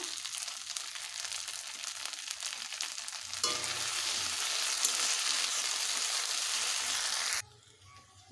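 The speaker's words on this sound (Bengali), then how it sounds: "আদা রসুনগুলোকে একটু কষে নেব এবারে দিয়ে দেবো জিরে বাটা" Ginger-garlic paste and cumin paste sizzle steadily in a hot pan, a continuous close frying hiss that grows louder and fuller partway through, with stirring, then cuts off abruptly near the end.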